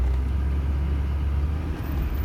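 A Hummer H1 Alpha revs against its held brake on rollers, giving a steady, loud low-pitched engine rumble and whir throughout with no talk.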